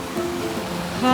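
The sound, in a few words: waterfall near Hemkund lake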